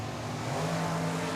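Drag racing cars, including a classic Chevrolet Chevelle, launching at Tucson Dragway, a loud sustained engine roar with deep steady droning tones, brief and continuous with no talk.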